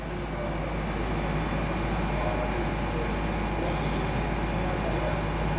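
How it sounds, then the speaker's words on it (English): An EMR Aurora train pulls away from a station platform on a London-bound service, producing a steady, broad rumble and hiss of the moving train that stays loud throughout. "He's about to leave the platform now for London"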